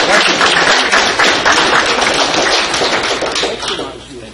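Dense, loud applause from a lecture audience, steady rapid clapping that tapers off slightly toward the end.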